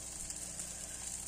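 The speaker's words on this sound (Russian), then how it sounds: "Итак, баклажан у нас жарится." Eggplant frying in a pan gives a faint, steady hiss of sizzling oil that stays even throughout, with no voices over it.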